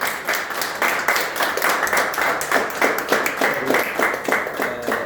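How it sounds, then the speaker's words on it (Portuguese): An audience at a Portuguese book presentation gives a sustained round of applause. Dense, even clapping continues for several seconds. "Eu peço uma salva de palmas ao nosso Afonso."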